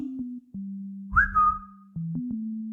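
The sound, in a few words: whistle imitating a bird call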